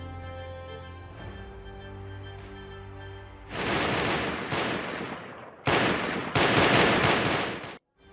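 Israeli police gunfire rings out in news footage, a rapid, heavy burst of shots coming in two loud volleys broken by a short pause. It follows a quieter stretch of tonal background sound, and no voices are heard.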